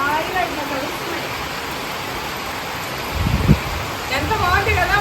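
Heavy rain falls outdoors during open-air cooking, a steady broadband hiss that runs through the whole stretch, with a brief louder splash near the end and some voices in the background.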